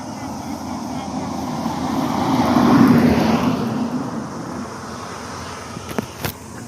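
A whirring drone motor circles closer, swelling to a peak mid-way, then fades as it moves off to land, with a few sharp knocks near the end.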